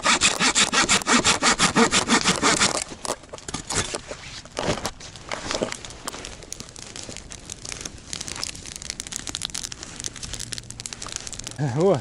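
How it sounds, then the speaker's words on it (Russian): A cheap Chinese handsaw cuts firewood at a taiga campfire, rapid rhythmic rasping strokes close up at first, then slower scrapes, rustles and knocks, with someone talking over parts of it. "Классная ножовка за 300 рублей, отлично пилит."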